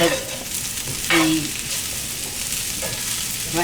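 Potatoes fry in oil in a pan, a steady close sizzle and crackle running throughout, with brief scraping stirs and a faint voice in the background.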